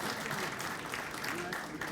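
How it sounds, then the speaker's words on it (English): A crowd at a public event gives a short burst of dense, continuous applause. The clapping stays steady and close from start to end. "So big round of applause to our Chief Minister."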